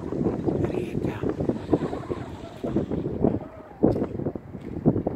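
Wind gusting on the Učka mountain top overlooking the Kvarner bay, a steady rough rumble buffeting the microphone with irregular surges throughout.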